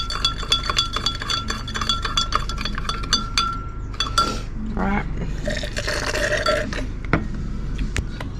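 A tool stirs a gold recovery solution in a container, giving repeated light glassy clinks and scraping taps in an irregular rhythm, with people talking over parts of it.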